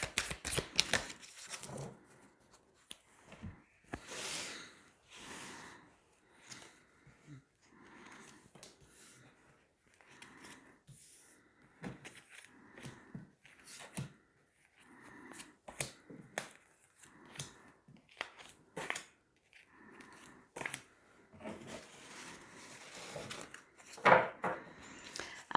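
A tarot deck being shuffled and cards drawn one by one for a daily reading, with close, soft riffling bursts and sharp card snaps and slaps spaced irregularly, quiet between them.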